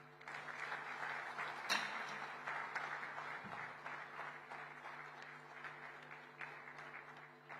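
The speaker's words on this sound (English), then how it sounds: "let that applause continue as we thank our chief guest, His Excellency, Mr. Sergio Gore." Steady applause from a convention audience in a large hall, a continuous dense wash of clapping that holds at an even level throughout, heard from a distance with no speech over it.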